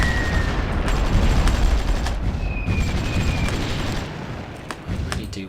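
Air force bombing tanks in the war strategy game Supreme Ruler Ultimate, heard as a dense rumble of booms and gunfire-like blasts with faint whistling tones, steady and moderately loud.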